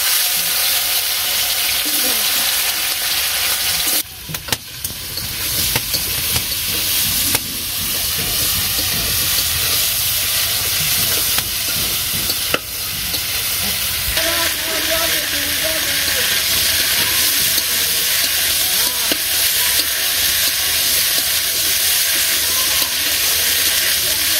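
Potatoes frying in oil with panch phoron for a curry, a steady loud sizzle and hiss running throughout, with a few clattering knocks near the start and a faint voice in the background.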